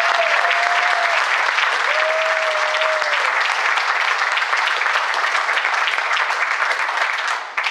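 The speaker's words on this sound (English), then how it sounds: "Go ahead and give John a round of applause" A stage audience claps loudly for a George Bush impersonator, with steady, dense applause throughout, a couple of brief whistles near the start, and a slight fade at the very end.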